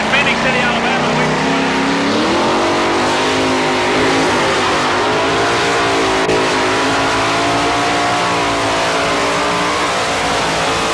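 Pulling truck at a 1987 tractor pull in Raleigh, North Carolina, with its engine roaring loud and sustained throughout and rising in pitch under an announcer's commentary.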